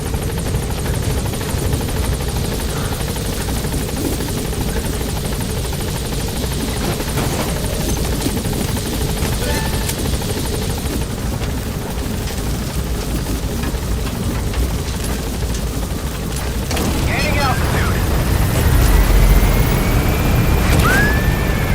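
Helicopter rotor from the Pequod in Metal Gear Solid V: The Phantom Pain, a steady loud thumping drone hovering over a landing zone, swelling slightly louder near the end.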